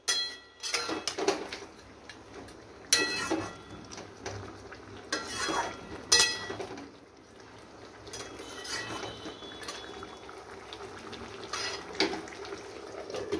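A fish curry simmers in a pan, its bubbling sizzle broken by repeated bursts of utensil scraping and clinks against the pan.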